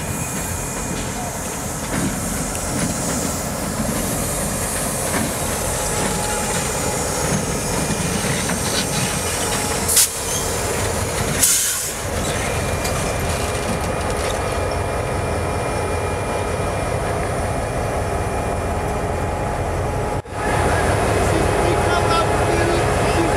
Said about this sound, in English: Love any sort of high hood locomotive.